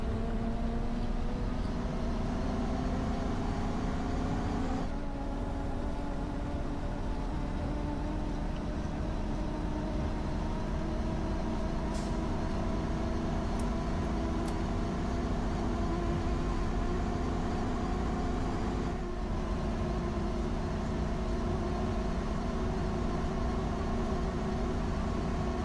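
A Blue Bird Vision school bus engine in the Rigs of Rods driving game drones steadily at cruising revs, a continuous loud hum with faint shifts in pitch and a couple of brief clicks.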